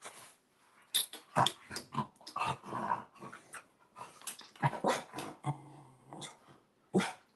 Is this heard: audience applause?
no